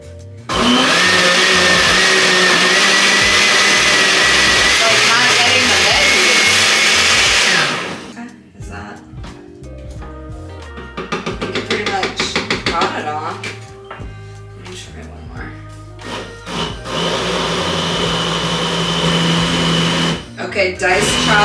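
A countertop blender runs loud and steady on the diced chop and salsa settings, stops briefly, then grinds in choppy pulses before roaring steadily again, with a voice speaking between bursts.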